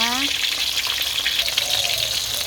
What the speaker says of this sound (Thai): ตั้งน้ำมันให้ร้อนนะคะ ใส่ปลาลงไปทอดเลยค่ะ